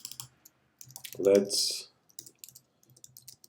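Brief bursts of clicking keys on a computer keyboard while someone builds a WordPress pricing calculator, scattered light taps around a spoken word and a short breathy rustle.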